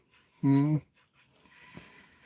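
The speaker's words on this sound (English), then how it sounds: "We gotta let the dog out." Indoor dog whimpering and panting, eager to be let outside; one short loud whine followed by softer breathy panting, close by.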